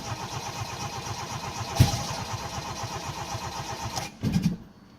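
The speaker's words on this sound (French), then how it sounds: "Chaque fois que quand je lâche le starter, il veut starter, mais quand je le start, il veut pas." Engine being cranked repeatedly with the choke in use but failing to start, a steady rhythmic starter churning with one sharp cough midway and a brief final burst before it cuts out.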